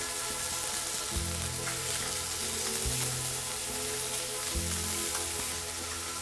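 Scallops sear in a hot cast iron pan after halibut, a steady loud sizzle with crackling spatter and a few low clunks as pieces are placed or shifted.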